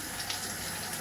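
A little water is poured into a drink being sweetened with agave, giving a brief, steady trickling rush that sounds close and moderately quiet, with no talking.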